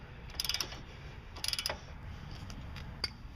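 A ratchet wrench loosens wheel bearing bolts on a late-1990s to mid-2000s Chevy Blazer front hub, two close bursts of rapid metallic clicking about a second apart, then a single brief click.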